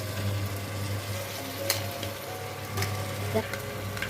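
Crab tossed into hot oil for a spicy Tamil crab fry, giving a steady close sizzle with a few louder pops and crackles under a low hum.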